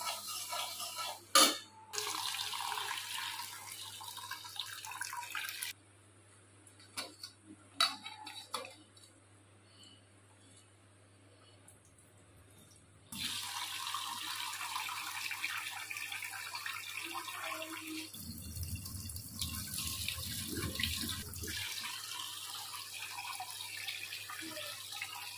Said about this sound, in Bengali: মুগ ডালটা এখন আমি একটা পাত্রে ঢেলে নিয়ে পরিষ্কার জল দিয়ে একটু ধুয়ে নেব